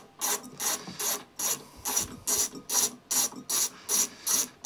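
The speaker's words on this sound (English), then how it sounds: "So we want a little tiny ratchet." A small hand ratchet undoes two tiny nuts inside the airbox cover of an Allen 218 hover mower, giving about ten quick, evenly spaced bursts of close, crisp clicking.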